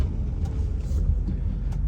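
A black Range Rover pulls up in front of a bank, its engine a steady low rumble that stays close and even throughout with no voices over it.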